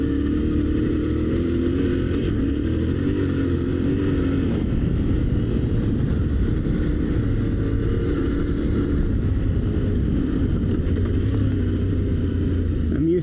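A Yamaha Tenere 700 motorcycle riding on a sandy trail, its engine droning steadily and close with constant wind rumble, and no clear talk over it.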